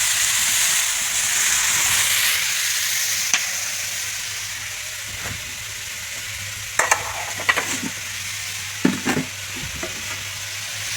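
Karela (bitter gourd) fries in a pan with a loud, continuous sizzle and hiss, while scattered utensil knocks and scraping clatter punctuate the second half up close.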